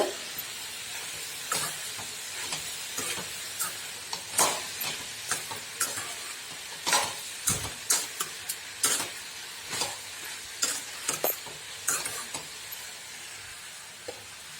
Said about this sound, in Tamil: இப்போ காய் ரெண்டு செகண்ட் வதங்கி வந்துருச்சுங்க